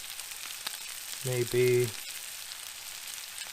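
Potatoes frying in a pan at home, a faint continuous sizzle beneath a short spoken remark in the middle.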